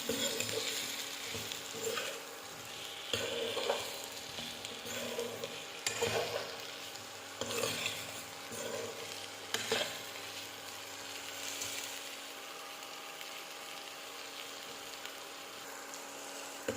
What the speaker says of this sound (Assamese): গোটেইখিনি মই ভালদৰে ভাজি ল'লোঁ।